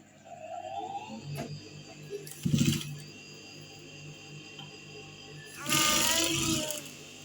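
Sewing machine stitching a star-shaped neckline on fabric, with short mechanical whirring bursts amid quieter handling noises and a louder final run near the end, close by and without speech.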